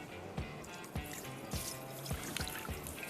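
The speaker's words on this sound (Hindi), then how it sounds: "अब मैं ज़रा चावल स्ट्रेन करके, चावल का पानी निकाल कर चावल इसमें डाल दूंगी।" Water strained off boiled rice drips and trickles, faint and close, with soft drops landing at a regular pace about every half-second.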